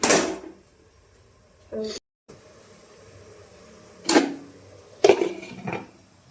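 A metal idli steamer pot clatters in a kitchen as plates are loaded in and a lid is set on top, several short knocks and clanks spread apart with quiet gaps between.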